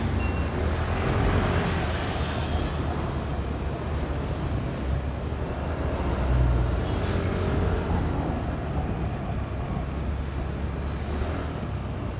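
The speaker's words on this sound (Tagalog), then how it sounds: "Medyo traffic guys." Dense, steady roadway noise from cars, trucks and buses in heavy traffic, a constant low rumble with engines swelling and fading, heard from close by in the middle of the flow.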